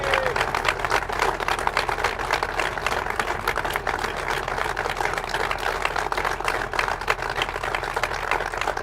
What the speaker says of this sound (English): Everyone stand up and give them a round of applause